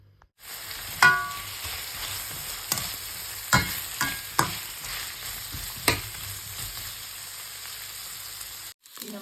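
Onions frying in oil in a pan, a steady close sizzle broken by several sharp scrapes and taps of a utensil stirring, with a voice speaking softly at times.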